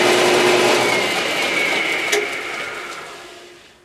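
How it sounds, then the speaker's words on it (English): A belt sander works the edge of a carbon fiber part with a loud, steady abrasive hiss and motor whine that holds, then tapers off as the machine winds down near the end. "the belt sander is the best way to fine-tune that edge"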